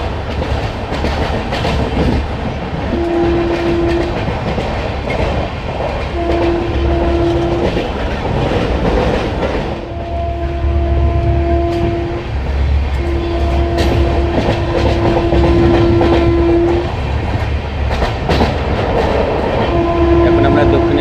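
Interior of the Darjeeling Mail, train 12343, running through Dakshineswar station: loud steady rumble and wheel clatter throughout, with a long horn blaring in several drawn-out blasts.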